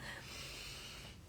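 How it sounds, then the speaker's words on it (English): A deep, drawn-out breath, close and breathy with a slight rasp, held steady for a moment before easing off, with no speech. "Let's just take a few deep breaths together"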